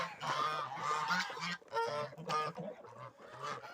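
Loud, repeated goose honking from several birds close by at evening feeding time, a busy overlapping chorus of harsh calls with brief pauses.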